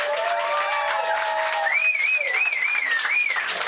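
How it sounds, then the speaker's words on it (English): A studio audience applauds as Governor Doug Burgum arrives on a television morning show, a steady wash of clapping with a wavering musical tone riding over it. "a round of applause for Governor Doug Burgum."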